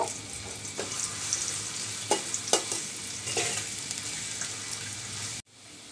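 Sliced onion with a little salt sizzles steadily in hot oil, a close and continuous fry broken by a few scraping stirs, with no voices, ending abruptly near the close.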